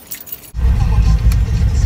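Car keys jangle close by in a short burst, followed by a loud low rumble that fits a car or engine nearby, with a faint voice at the start.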